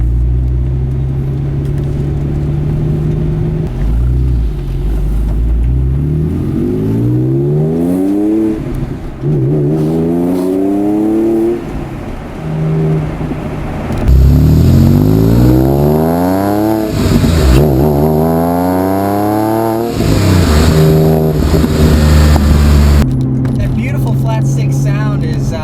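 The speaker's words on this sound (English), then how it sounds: "so this exhaust sounds really good" A 2007 Porsche 911 Carrera Targa 4S with a manual gearbox pulls through the gears, its exhaust rising and falling in repeated rev sweeps, loud and close, with a voice talking over it.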